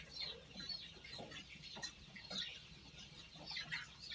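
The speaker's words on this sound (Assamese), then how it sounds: "আপোনালোকে চাই আছে মোৰ সৰু পোৱালিগিলা।" Young chicks on a chicken farm with about a thousand birds peep and cluck softly in scattered, overlapping calls, faint and fairly distant, with no talking.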